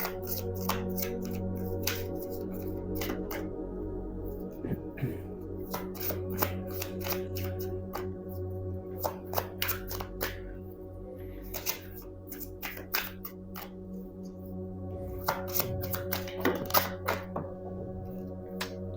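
Tarot cards being shuffled and handled at a reading table, a long run of crisp riffling and soft slaps with sharp irregular clicks as the deck is cut and laid down, close and alone with no voices.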